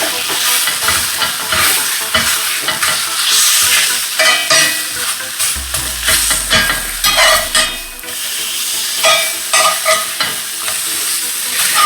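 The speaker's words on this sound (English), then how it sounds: "move them around the pan, because there'll be spices or seasoning in that liquid that's left behind" Sliced mushrooms fry in a hot pan for a plant-based, meat-like recipe, giving a steady close sizzle broken by repeated scraping and stirring as they are pushed around in their leftover seasoned liquid, with no talking.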